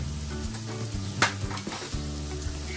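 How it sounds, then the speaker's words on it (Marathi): Mustard seeds, asafoetida and turmeric dropped into hot oil for a fresh green chickpea curry, giving a steady close sizzle with a sharp clatter of a spoon against the pan partway through. "अर्धा चमचा मोहरी टाकली, अर्धा चमचा हिंग टाकला आणि अर्धा चमचा हळद"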